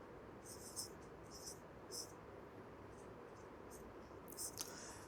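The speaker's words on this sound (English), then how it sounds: "So I write the solution for you." Pen writing out a control systems solution on paper, a series of soft, close scratching strokes in short bursts with brief pauses between them over a quiet room hiss.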